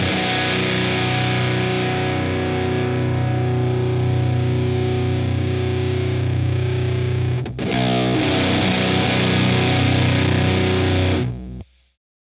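An electric guitar runs through a distortion pedal without fuzz, giving a loud, sustained, saturated chord. It breaks off briefly, comes back ringing, and then cuts out.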